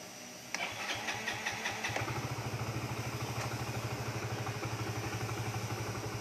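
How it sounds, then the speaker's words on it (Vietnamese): A Yamaha Nouvo SX Fi scooter, serviced after its fault codes were cleared, cranks with a brief whirring starter and catches about half a second in, then settles into a steady, close, rhythmic idle with no talk. "vậy bây giờ chúng ta sẽ nổ động cơ luôn"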